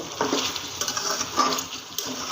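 Gizzard and liver being sautéed with spices in a pan before water is added, with soft sizzling and a few scraping stirs of a utensil against the pan.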